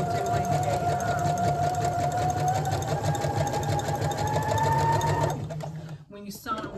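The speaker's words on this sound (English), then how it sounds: "I want you to do this on your sewing machine as well." A sewing machine runs steadily, stitching practice seams on a practice sheet for about five seconds with a constant mechanical whir and rapid needle rhythm, then stops, leaving a brief quieter tail of handling noise.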